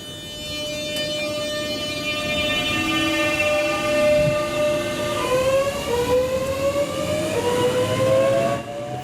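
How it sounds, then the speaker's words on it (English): A London Underground 1996 stock train's traction motors whine in rising and falling tonal sweeps, loud and close, with a steady rumble of the moving train beneath and no voices. "So we all love the sounds that the 1996 stock makes"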